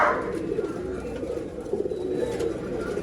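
A breeding pair of pigeons coo in low, soft, continuous throaty murmurs, close by and steady throughout.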